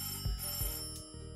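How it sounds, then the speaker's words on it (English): A phone rings alone in a short trilling burst, with repeated electronic tones sitting over a steady background, and no voice over it. "My phone is ringing."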